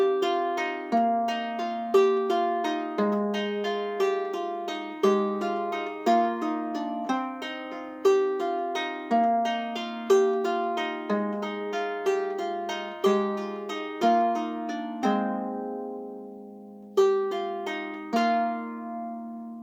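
A seven-string Anglo Saxon lyre plays a plucked melody with clear ringing notes over sustained open-string drones, steady and close for about twenty seconds, with no voices.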